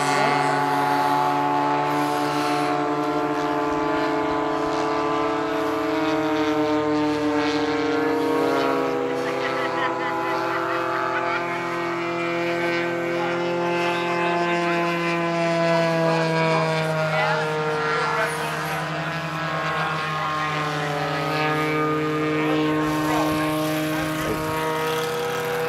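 A P-47 Thunderbolt model airplane's propeller engine drones steadily and loudly, its pitch shifting as it comes in to land over a grass field, with no talk over it.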